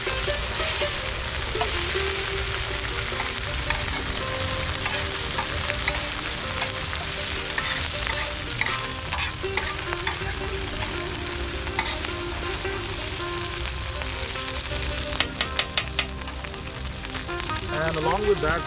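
Garlic paste and chilies fry in a pan outdoors, a dense continuous sizzle with crackling bursts throughout, while someone talks over the cooking.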